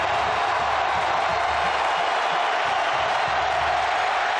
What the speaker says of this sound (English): Crowd trying to encourage that defense on 3rd and 4